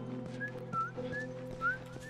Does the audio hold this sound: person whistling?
yes